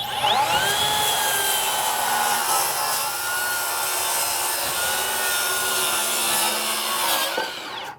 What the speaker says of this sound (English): the saw had absolutely no problem ripping that 2x material